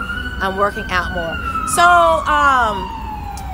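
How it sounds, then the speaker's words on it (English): A police-type emergency siren wails in the background with rising and falling tones, heard behind a person speaking. "there's a siren back there, as you can see"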